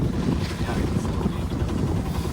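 Wind blowing across a sailboat under way, a constant close rush of gusty air buffeting the microphone, mixed with low water and hull noise and no clear talk.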